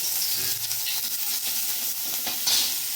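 Onion paste sizzles in oil in a pan, a steady close frying hiss with occasional stirring scrapes, no voices.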